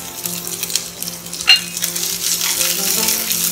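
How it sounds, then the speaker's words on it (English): Sliced onions dropped into a pot of hot oil with cinnamon and bay leaf, sizzling and frying steadily with a light metallic clink from the pot or utensil midway. "Once that's done, add in sliced onions."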